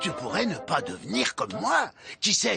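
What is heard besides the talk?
No distinct noise like a dog, phone or traffic.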